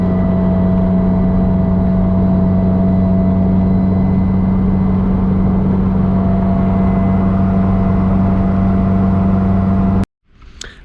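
Road traffic passes a roadside stopping spot, a loud, continuous engine and tyre drone holding steady for about ten seconds before cutting off abruptly into a brief, quieter noise.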